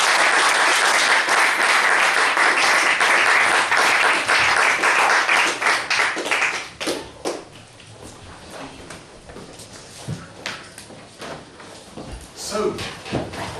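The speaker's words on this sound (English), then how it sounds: "So, huge round of applause to" An audience applauds at a talk: dense, loud clapping fills the opening seconds, then thins to a few scattered claps and fades into room noise, with a voice speaking toward the end.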